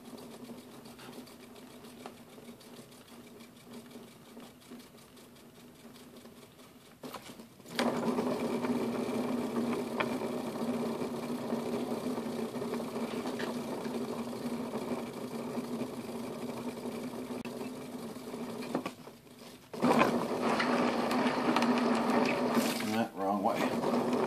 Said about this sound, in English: Okay, so I'm going to start up the motor again.